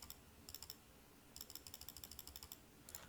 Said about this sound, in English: got the Christmas gift of a brand new computer mouse. So if my clicking sounds a little bit different, you know why.